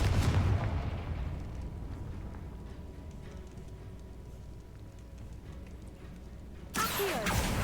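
A Confringo spell blast in Hogwarts Legacy booms at the start and rumbles off into a low, fading tail, followed near the end by another sharp burst.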